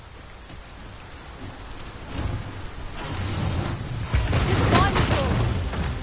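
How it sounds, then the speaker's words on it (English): A heavy downpour in Dragon's Dogma 2 hisses steadily while low rumbling thunder swells and builds louder over several seconds. "This downpour seems unlikely to abate."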